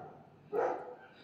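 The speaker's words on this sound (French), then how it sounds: "Et ça, c'est mon chien qui aboie." A single short dog bark, moderately close, rising briefly over a quiet background.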